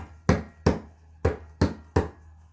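Five close, dry strokes sound on a mridanga drum played with the thumb tucked in. Each one is a short, punchy, muted thump in an uneven rhythm, with no talking.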